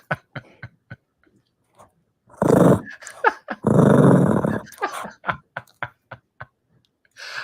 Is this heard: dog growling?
yes